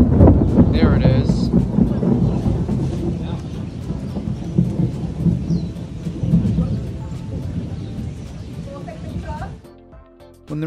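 A sudden, heavy tropical thunderstorm breaks over a botanical garden in Malaysia where a tour group has taken shelter. Dense, loud rain and deep thunder rumble continuously, with faint voices mixed in, before the downpour cuts off near the end.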